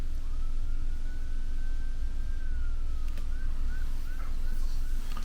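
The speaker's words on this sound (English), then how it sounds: "There's a siren out there." A siren wails steadily in the distance, rising and holding, then switches to quick repeated yelps over low traffic rumble.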